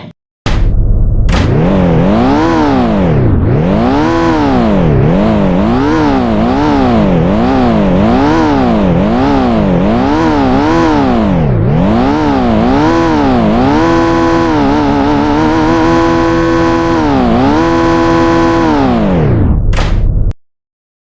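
A car engine in the Roblox game Car Dealership Tycoon revs loudly and repeatedly, rising and falling in steady cycles for about twenty seconds, then holding a sustained high drone before cutting off, with no talking.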